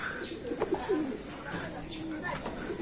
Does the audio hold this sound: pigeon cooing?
yes